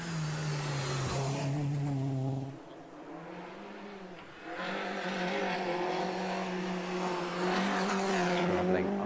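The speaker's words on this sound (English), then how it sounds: "Across the parkland goes Ian Peacock with the Citroen C2 VTS." A Citroen C2 VTS climbs a parkland hillclimb course, its engine note rising and shifting through gears as it passes, dipping briefly before building again, heard at moderate distance.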